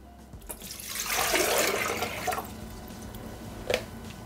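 Water poured into the mixing bowl of a Bimby/Thermomix kitchen machine: a steady splashing pour builds up, runs for a couple of seconds, then tapers off, with a brief clink near the end.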